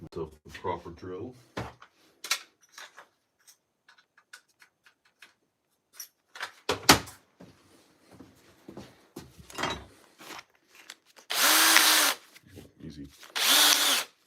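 Power drill boring a hole during garden railway tunnel construction, two loud whirring bursts near the end following scattered clicks and handling noises, with brief speech early on.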